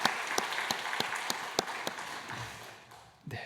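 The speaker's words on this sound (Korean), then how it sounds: "우리 잘 오셔서 박수로 환영하겠습니다" Church congregation applauds in welcome, a brief burst of scattered clapping from a room of people that fades out within a few seconds.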